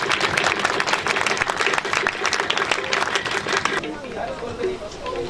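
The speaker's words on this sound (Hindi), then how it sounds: "तो खुदा के लिए जोरदार ताली हो जाए।" Loud applause from a church congregation at a Christmas celebration, dense clapping with crowd noise for about four seconds before it abruptly drops away to quieter room sound.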